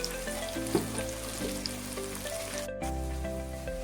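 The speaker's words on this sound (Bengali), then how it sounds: "পেঁয়াজগুলোকে ভালো করে ব্রাউন কালার করে নেবো।" Onions browning in a pan for Bengali duck curry, giving a steady close sizzle and crackle throughout, with faint clinks and a brief shift in tone near the end.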